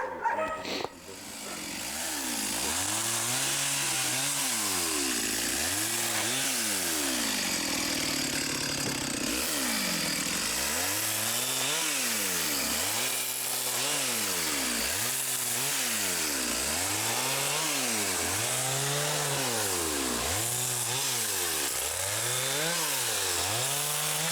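A chainsaw cuts branches in the taiga with a loud, close engine that rises and falls in a repeated rhythm of revving cuts throughout, after a brief start.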